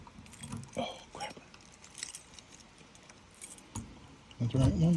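Keys jangle in short metallic bursts while someone searches for the right garage key, the rattles coming in uneven clusters between spoken words, with a louder handling clatter near the end.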